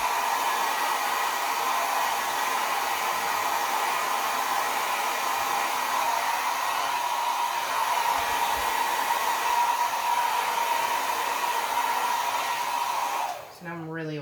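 An air blower blows steadily over wet acrylic pour paint, a loud, continuous close-up rush of air that lasts about thirteen seconds and then cuts out abruptly.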